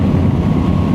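Steady, loud wind roar buffeting the microphone while riding a 2025 Yamaha Tracer 9 motorcycle, a dense low rumble with no pauses, like riding at speed.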